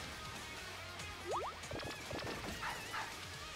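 A Pokémon cry from a Pokémon video game, an angry puppy creature, comes as a short pair of rising electronic yelps followed by a few clipped barking chirps over a steady game background.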